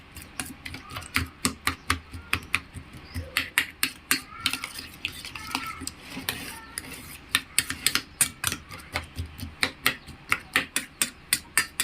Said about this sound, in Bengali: ভালো করে আমি এটা ডিমটা ফাটিয়ে নেবো